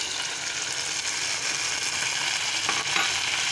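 Onions fry to light golden in a pan as plain curd is added for a tikka korma biryani, giving a dense, steady close sizzle and bubbling with a brief stir near the end.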